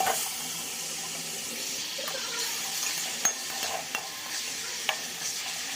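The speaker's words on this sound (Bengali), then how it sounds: "এবার আমি ভেজে রাখা আলু মাছ দিয়ে দিচ্ছি।" Fried potatoes and fish go into hot spiced oil in a home kitchen, giving a steady close sizzle with a few sharp pops and clinks of stirring, and no talking.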